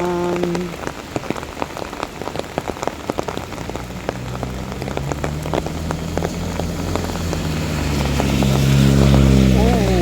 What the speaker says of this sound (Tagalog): Grabe yung ulan guys.